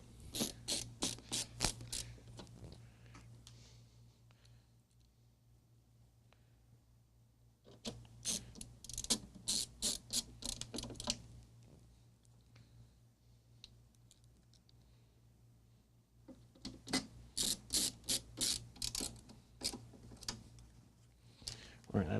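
Screws are removed from the front of an old Data General Dasher computer terminal during a refurbishment, making clusters of small, quick metallic clicks and ticks close by, broken by quieter pauses, with someone talking at times.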